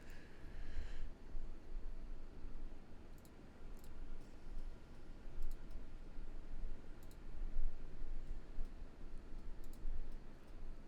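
Computer mouse clicks tick sharply and intermittently in small clusters over a low, steady background rumble, with no talking.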